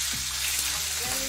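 Food fries in hot oil, a close, even hiss of sizzling with a faint low hum beneath, continuous and without talk.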